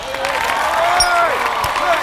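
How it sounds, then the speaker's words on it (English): A large crowd roars and claps steadily as candidates step onto a stage at a staged debate event, with a dense wash of cheering and a few whistles carrying throughout. "just listen to that crowd"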